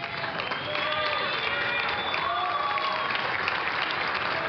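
Steady, dense applause from a home crowd at a tennis match at the 2018 Youth Olympics, with cheering in it, continuing under a commentator's voice.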